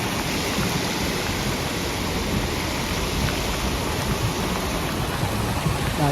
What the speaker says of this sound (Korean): 이거 빗소리가 이렇게 무서웠던 거 아니죠?